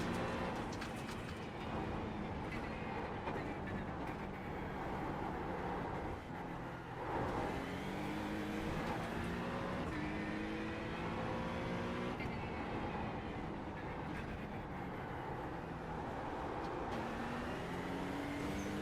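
A race car in the sim game Le Mans Ultimate laps the Bathurst circuit, its engine note rising and falling through repeated upshifts and braking downshifts, steady and continuous with no speech.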